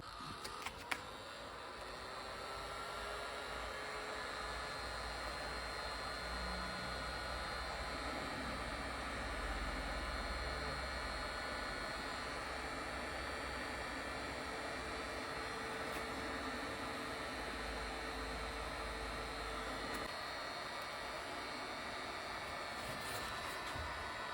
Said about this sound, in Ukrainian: Ось так, легенько нагріваючи феном, знімаємо ось цю